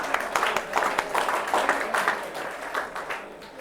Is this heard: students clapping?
yes